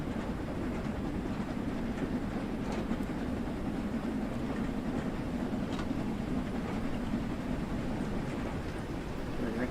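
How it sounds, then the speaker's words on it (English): A steam locomotive hauls a rake of carriages in the railway simulator Train Sim World 2, giving a steady, loud rolling rumble with a faint clickety-clack of wheels over rail joints that carries on without pause. "It's just good old loco steam power haul."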